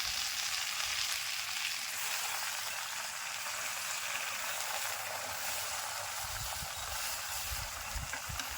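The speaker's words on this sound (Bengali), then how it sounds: "পেঁয়াজের মরিচটা ভাজা গেছে, শাকটা দিয়ে দেবো।" Onion and chili fry in hot oil before jute leaves go into the pan, giving a continuous, even hiss and sizzle that stays fairly soft throughout with no talking.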